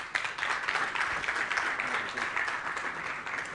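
Applause from a conference audience as panelists are called onto the stage, a dense, even wash of many hands clapping throughout, moderately loud and without talk.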